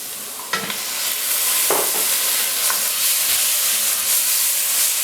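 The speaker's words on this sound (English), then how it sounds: "just going to stir in the tomatoes" Tomatoes and spices stir-fried in a pan for a chicken and spinach masala curry, a steady loud sizzle with a few scraping stirs of the spoon, close up and without talk.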